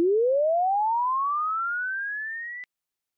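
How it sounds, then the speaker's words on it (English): A steady pure tone glides upward in a linear sweep from 100 to 2000 Hz, climbing quickly at first and then more gradually, before cutting off abruptly. "If the first sweep is done linearly,"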